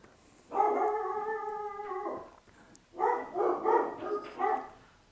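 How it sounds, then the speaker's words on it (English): Dogs at home barking and howling at a propane delivery person, first a long drawn-out howl, then a quick run of several sharp barks, moderately close. "my dogs are barking at him"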